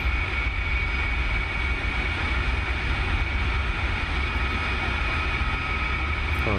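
Engine of a Bell 47 helicopter in the DCS flight simulator running with a steady, loud droning whine and constant hum throughout, no clear spool-up heard.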